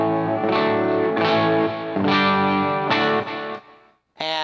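Clean electric guitar tone played straight into an amp: several ringing chords struck in a loose rhythm, each left to sustain, then a short pause before a final bright strum.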